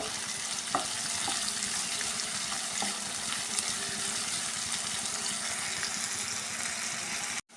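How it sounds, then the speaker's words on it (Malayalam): Onions sautéing with salt in coconut oil in a pan: an even, broad sizzle holding steady throughout, with a few faint clinks of stirring, cutting off abruptly at the end. "വെളിച്ചെണ്ണ ഒഴിച്ച് കൊടുത്തു, ഉള്ളി ഇട്ടിട്ടുണ്ട്. അതിലേക്ക് ഉപ്പും ചേർത്ത് നന്നായി വഴറ്റി കൊടുക്കുക."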